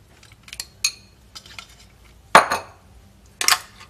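Grilled goat satay being pushed into a dish of sambal sauce, giving several sharp clinks and scrapes of metal utensils against the dish, spaced irregularly, close by, with no talking.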